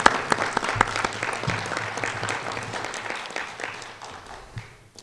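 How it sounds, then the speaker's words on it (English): Warm audience applause for four debate panelists at an evening debate on student debt, steady dense clapping with a few sharper claps, gradually fading out at the end. "give our 4 panelists a warm round of applause"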